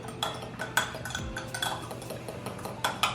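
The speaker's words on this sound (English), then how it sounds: "And we mix everything." A spoon or whisk mixes bread dough ingredients, including a room-temperature egg, in a bowl for garlic rolls, making quick repeated clinks and scrapes against the sides with an uneven rhythm, close and moderately loud.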